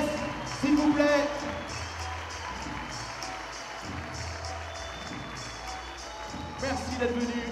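A large audience at the Palais des Sports applauds and cheers at a tribute event, a steady wash of clapping with louder swells near the start and end, while an announcer's voice carries over it.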